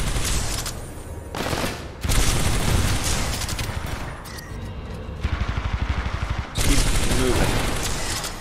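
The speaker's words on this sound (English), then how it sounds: "Light machine gun." Light machine gun fire in the shooter game Titanfall 2, rapid bursts and chattering volleys amid explosive battle noise, close and loud, with a brief spoken line over the firing.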